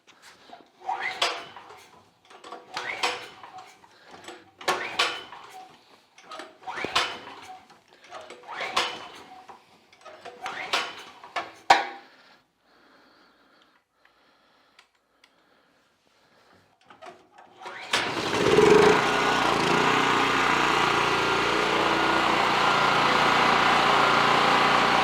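Repeated rhythmic pull-cord yanks on a Generac 5500 watt portable generator, choked with the fuel on, then a pause before the engine catches and settles into a loud, steady running drone close by.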